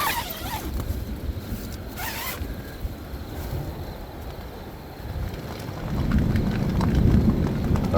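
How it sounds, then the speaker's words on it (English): Rain patters steadily on a tent, with a couple of sharp zipper-like rasps early on and the downpour growing heavier toward the end. "Alright folks, it's officially raining. You can hear it on the tent."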